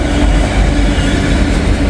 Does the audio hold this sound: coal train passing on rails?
yes